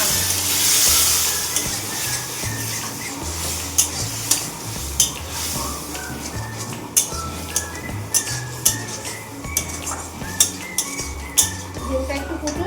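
A spoon stirs fish curry masala with added water in a pan, giving repeated sharp metal clinks and scrapes over a soft sizzling bubble, close and fairly loud, with no talking.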